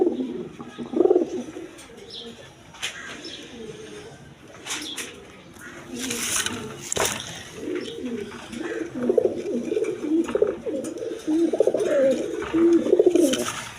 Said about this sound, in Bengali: এখানে এক পেয়ার মিলি কালার গররা কবুতর আছে সাপ চোখের